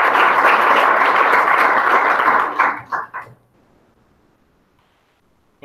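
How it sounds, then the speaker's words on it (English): An audience at hackathon final presentations claps loudly and steadily for about two and a half seconds, then the applause trails off into a few scattered claps and near silence. "I want to give them a really big round of applause."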